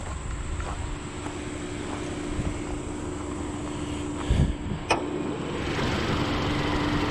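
A 2021 Kia K5's 1.6-litre turbo Smartstream engine idles with a steady, even hum, heard from close by under the open hood, with a couple of brief knocks partway through.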